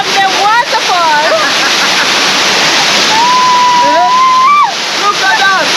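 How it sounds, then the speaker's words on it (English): A waterfall roars as a steady, loud wash of falling water throughout, with several people talking and calling out over it. "live from the waterfall."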